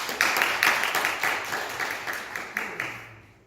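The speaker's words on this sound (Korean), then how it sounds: "일단 박수부터 쳐드리겠습니다." A church congregation claps together in a sanctuary, a dense run of applause that swells in bursts and tapers off near the end, with no voices over it.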